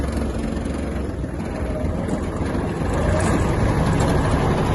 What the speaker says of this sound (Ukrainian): Вибираємо реверс і трактор йде назад